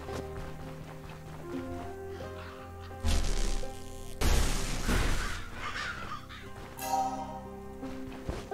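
In the video game Stoneshard, crows caw amid bursts of crashing and thudding game effects, the harsh calls rising over a droning background across several seconds.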